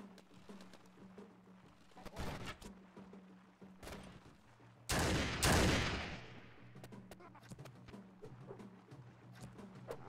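Matchlock gunners fire in a Mount & Blade Warband battle: two loud gunfire bursts, a shorter volley, then a bigger, longer crackling one, over a steady low hum of battlefield noise.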